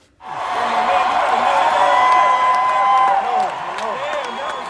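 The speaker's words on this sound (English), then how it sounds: "they cheer Chappelle as if the whole thing was real" A comedy show audience cheers and applauds Dave Chappelle in a loud, sustained wash of clapping and whoops that swells quickly and then eases slightly, with voices mixed in.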